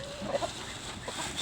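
Rhode Island chickens cluck on a farm, several short soft clucks scattered through a steady background hum, moderately close and without speech.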